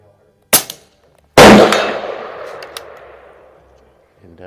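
Umarex Iconix Buck Rail air rifle fitted with a collet suppressor fires at a range, each shot followed by the ring of a struck steel silhouette target, two sharp impacts with a long metallic decay between them.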